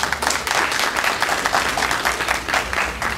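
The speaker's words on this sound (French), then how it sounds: "on applaudit le président Thierno Aliou Baldé" An audience in Atlanta applauds the new president Thierno Aliou Baldé, a steady wash of clapping that holds evenly for a few seconds, with no voices rising above it.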